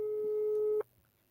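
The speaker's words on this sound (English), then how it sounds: "So this person's phone is ringing." An outgoing phone call's ringing tone, one steady electronic tone held for almost a second and then cut off, leaving faint background hiss.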